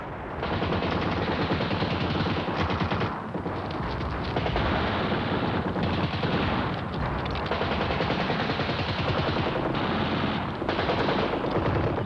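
Sustained heavy machine gun fire from the World War II Battle of Crete, dense rapid bursts rattling almost continuously with brief pauses, loud and close.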